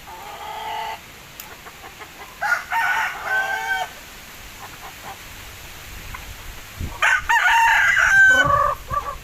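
Chickens and a rooster at feeding time in a windy yard, with bursts of clucking and two loud crows rising over a steady breezy background.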